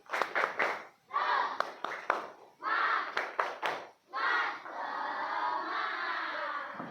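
Schoolchildren in an Indonesian classroom chant and clap the rhythmic 'tepuk semangat' routine, with bursts of sharp claps between shouted chant phrases, fairly close.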